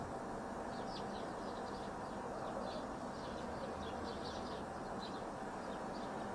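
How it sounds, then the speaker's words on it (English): Crows and other birds call repeatedly from a distance at a checkpoint outside Kyiv, their scattered caws sitting over a steady broadband rumble of background noise. "the bells you're hearing, the crows, the birds are from this video"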